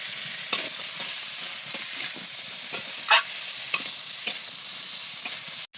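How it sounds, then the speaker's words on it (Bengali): Fried crab pieces with eggplant and potato hiss steadily in a hot pan, with a constant bright sizzle and occasional scraping knocks of a spatula stirring, close and alone. "আর্ধেক বেগুন ছোট্ট একটা বেগুনের আর্ধেক দিলাম তাই একটা আলু দিলাম এই যে আমার ভেজে রাখা কাঁকড়া দিয়ে দিলাম"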